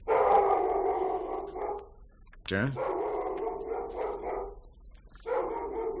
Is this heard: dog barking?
yes